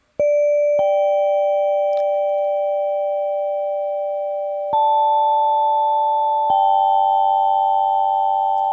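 Sustained synthesized marimba tones in Ableton Live step up in pitch a few times, each a clean ringing note with a sharp attack, held steadily with no voices.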